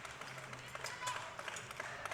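Crowd noise at a junior men's 93 kg world classic powerlifting championship in Sweden, with home fans cheering and clapping loudly for local Swedish lifters, a steady dense roar with scattered claps under a commentator's talk.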